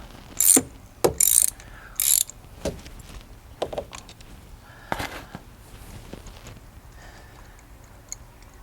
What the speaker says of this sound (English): Because I've got a spark plug socket, I break it loose.